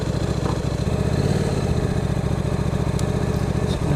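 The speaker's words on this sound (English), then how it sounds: "It's quite a raw sounding engine" A KTM RC8 motorcycle engine idles steadily and loudly up close, a raw, lumpy throb that keeps an even rhythm throughout with no talking.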